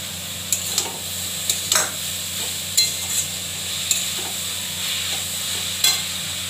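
A steady sizzle of potato and cabbage frying in a pan with turmeric, punctuated by sharp scraping clicks from a spatula stirring every second or so, close up with no talk.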